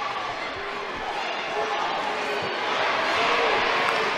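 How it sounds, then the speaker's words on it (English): Crowd noise at a state championship basketball game in a packed gym: a steady, dense wash of cheering and chatter that swells slightly toward the end, with a few faint thumps underneath. "You can hear the crowd here today"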